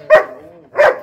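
Two loud, close barks from a male dog roughly a year and two months old, tested for ferocity, spaced about half a second apart with a faint low growl or whine between them.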